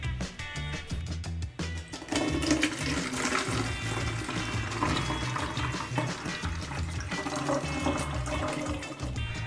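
Water filling a chemical bottle to the top while mixing film developer, a continuous, fairly loud gushing pour with steady rushing throughout and no talk.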